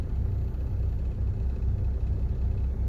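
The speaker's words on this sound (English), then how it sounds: "So I've started the vehicle right now" A car with an automatic gearbox idles just after starting while sitting in park with the brake held, a steady low rumble that stays even and close throughout, with no speech.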